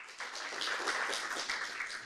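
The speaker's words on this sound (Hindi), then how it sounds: "अपना भी जोरदार तालियों से स्वागत कीजिए।" An audience at a farmers' stage event breaks into steady applause to welcome the farmers: a dense, even wash of many hands clapping at moderate loudness for about two seconds.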